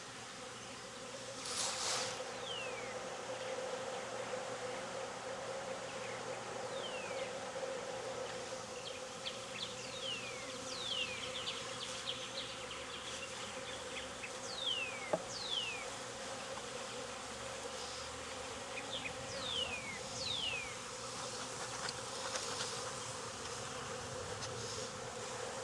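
A large honeybee swarm being hived into a modified Demaree setup drones steadily and continuously at close range, a dense insect hum with individual bees zipping past the microphone.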